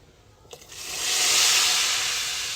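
Hot oil poured into a pot of yarma soup on the stove gives a short click, then a loud rising hiss and sizzle that holds steady and fades slightly.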